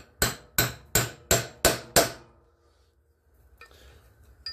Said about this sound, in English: you'll take a hammer and a chisel